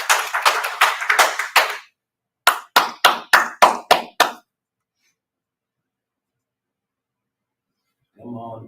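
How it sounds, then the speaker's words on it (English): A small group gives a short burst of clapping, then a second brief round of about seven distinct claps, followed by silence and a faint sound at the end. "Everybody have a clap for her."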